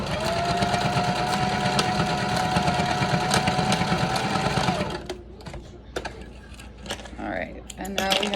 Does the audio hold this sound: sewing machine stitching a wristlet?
yes